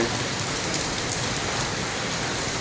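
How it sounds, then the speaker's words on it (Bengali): Rain pours steadily during a hailstorm, a dense, even hiss of drops striking surfaces from start to finish, with no voices. "বৃষ্টি হচ্ছে।"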